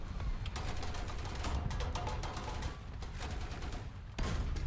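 Gunfire rattles in fast bursts against a KV-1 (L-11) heavy tank in War Thunder, dense shots and impacts continuing loud and steady with a brief lull before a final burst.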